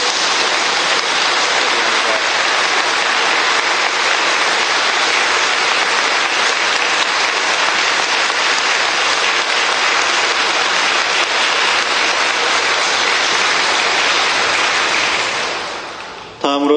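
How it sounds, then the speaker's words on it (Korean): A church congregation at Mass applauds for a priest and a brother marking fifty years, giving a dense, steady roar of clapping that holds for over sixteen seconds and then cuts off abruptly. "다시 한 번 더 뜨거운 박수로 축하해 주시기를 바랍니다"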